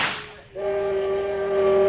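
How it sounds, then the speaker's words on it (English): Steamboat whistle screeching from a pulled cord in a radio drama adaptation, a sustained shrill tone rising loud after a brief noisy burst and holding steady to the end, with no talk. "I grabbed the whistle cord and jerked out screech after screech"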